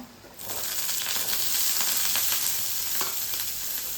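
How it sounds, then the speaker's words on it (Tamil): Sliced small onions and garlic fry in sesame oil in a wok, giving a loud, steady sizzle that swells after a brief quiet start and carries on without talk. "இதில் வெங்காயம் பூண்டு வதக்குறேங்க"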